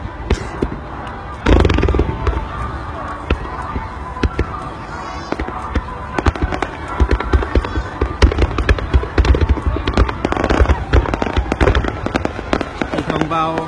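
Fireworks burst at a Japanese summer Obon festival, a dense run of loud cracks and booms, one heavy thump early on, with crowd noise and voices underneath.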